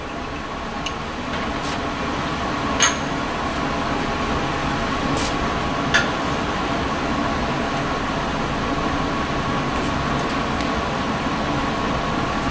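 A laboratory fume hood runs with a steady, even whoosh of airflow and fan hum, a few faint clicks over the constant broadband noise, with no one talking.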